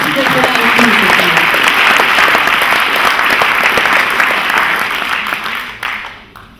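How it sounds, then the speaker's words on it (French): Sustained applause from a seated audience at an opening-evening round table, a dense steady patter that holds strong for several seconds, then tapers off and fades near the end. "On applaudit Sophie Swatton"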